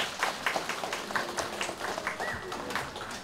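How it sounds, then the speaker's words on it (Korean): Scattered hand clapping from a temple congregation at a Buddha's Birthday ceremony at Daeseongsa, encouraging a small child; quiet, sparse claps with distinct individual strikes rather than a full ovation. "박수 한번 쳐주세요."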